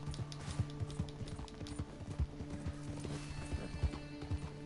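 Hooves clip-clop at a steady riding gait while a horse travels in the video game Red Dead Redemption 2, with a neigh partway through, all close and fairly quiet under a soft background bed.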